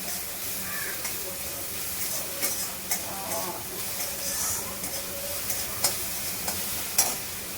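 Ginger and garlic paste sautéing in a pan, a soft steady sizzle with occasional scraping stirs and light clinks, close and continuous.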